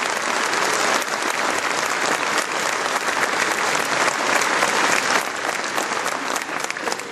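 A crowd applauds loudly and continuously at a civic New Year's wishes ceremony with an Olympic theme. The dense clapping eases slightly partway through before carrying on.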